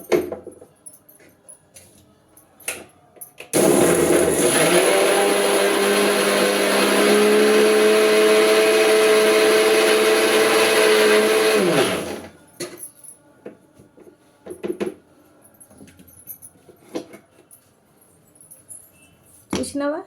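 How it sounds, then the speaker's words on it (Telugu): Mixer grinder grinding roasted coconut that has turned slightly dark, a loud steady motor whine that starts abruptly, holds for about eight seconds and cuts off, with quiet kitchen clatter and some talking before and after. "ఇప్పుడు మిక్సీ పడతా"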